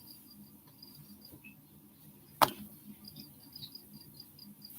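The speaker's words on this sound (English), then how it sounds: "I was like, why do I hear crickets?" Crickets chirp steadily in faint, repeated high trills, with a single sharp click cutting in partway through.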